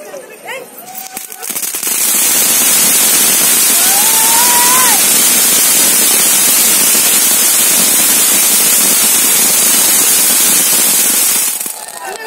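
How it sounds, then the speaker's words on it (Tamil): Firecrackers set off outdoors: a dense, sustained burst of loud crackling explosions running for about ten seconds after a brief quieter lead-in, with a whistling rocket streak partway through and faint voices at the start. "நாங்க இப்போ பட்டாசு அடிக்க போறோம் பாருங்க"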